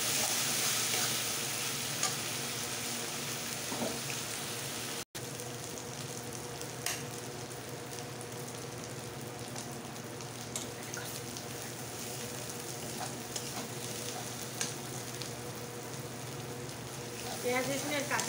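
Garlic and ginger paste fries in hot oil with a steady, soft sizzle lasting nearly twenty seconds. Occasional stirring clicks and faint watery sounds break into it, with no one speaking.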